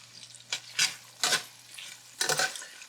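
Bacon cut into one-inch pieces fries in a pan to render its fat, giving a steady close sizzle broken by three or four louder bursts of stirring and scraping against the pan, with no talk.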